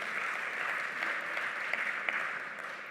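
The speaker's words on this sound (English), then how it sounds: "That applause is for you." A conference audience gives a warm round of applause at a plenary session, even continuous clapping from a large room with a few sharper individual claps.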